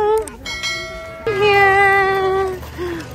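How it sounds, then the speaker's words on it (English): A bell struck at a pumpkin patch rings out loud and near, two clear metallic strikes with tonal ringing that decays, a short one first then a longer sustained one. "Hit the bell."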